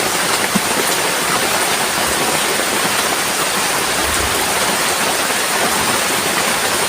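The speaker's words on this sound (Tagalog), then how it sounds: "Gabi, naabutan po tayo ng ulan." Steady, dense night rainfall pouring down without a break, a constant broad hiss of drops striking surfaces nearby.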